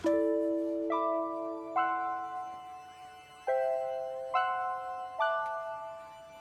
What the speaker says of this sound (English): Super interesting piano.